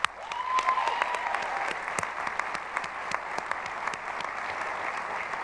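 Audience applause at a Kent State Geauga and Twinsburg Academic Center spring 2022 commencement ceremony, a sustained bed of many hands clapping with sharp individual claps and a brief whistle standing out near the start.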